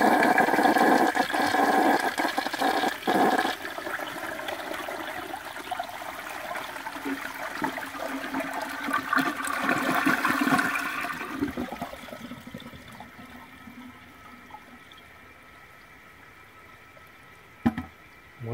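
A 1970 American Standard Cadet toilet flushes loudly and close up, with a long rushing gush of water that tapers into refill trickling and gurgling, then a faint clunk near the end.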